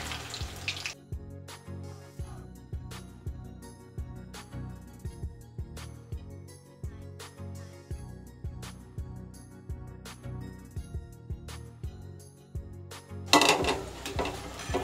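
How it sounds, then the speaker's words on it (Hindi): Manchurian balls frying in oil on a medium flame: a steady sizzle with regular popping pulses, close and moderately loud throughout, ending in a brief louder splash of crackling. "धीमे धीमे आंच में मीडियम फ्लेम पे हम लोग धीरे धीरे फ्राई करेंगे"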